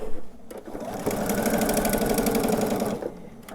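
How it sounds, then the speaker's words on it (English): A sewing machine stitches binding down the length of a quilt, its rapid, steady mechanical whir running for about two seconds at close range with no voices over it. "And continue sewing down the length of this quilt."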